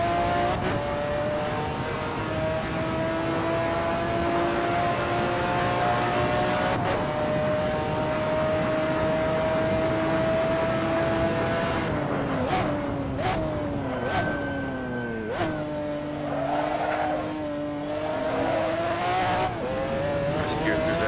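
A McLaren F1 GTR race car in Assetto Corsa howls through a lap, its engine note holding a long steady pitch before dropping and climbing through quick downshifts and upshifts, loud and close.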